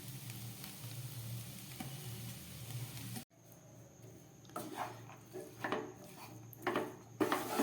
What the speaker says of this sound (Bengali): এবার আমি এই ভেজে রাখা ডিমের টুকরোগুলো এর মধ্যে দিয়ে দিচ্ছি।